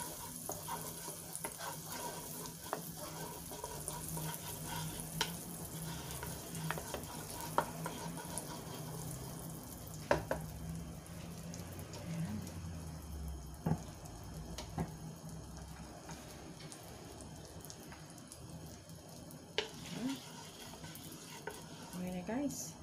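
Butter heating in a pan over low fire, a soft, steady sizzle with occasional clinks and stirring scrapes of a utensil against the pan throughout.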